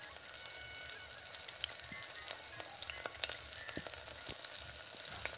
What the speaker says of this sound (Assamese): গোটেইবোৰ ভালকৈ ৰঙচুৱা হৈ যোৱালৈকে 3-4 মিনিট ভাজি ল'ব